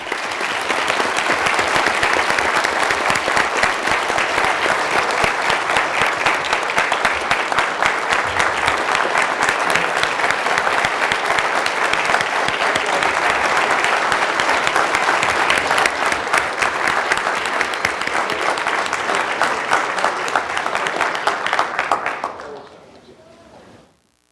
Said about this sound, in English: Let's give a big round of applause for these survivors.